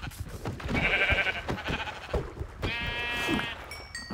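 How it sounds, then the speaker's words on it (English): A sheep in a survival video game bleats twice, clear and close, with wavering nasal cries and faint game ambience between them. "Hi, sheep. I am so sorry."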